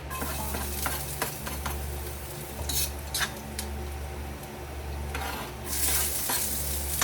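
Cooking oil is stirred in a pan, with a utensil clinking and scraping against the metal over a continuous sizzle and a low hum, and brighter hissing bursts come up now and then.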